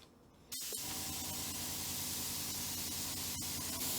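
An airbrush spraying paint starts with a soft click, then gives a steady, close, even hiss that continues without a break.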